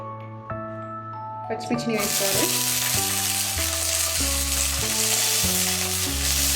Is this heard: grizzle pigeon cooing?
no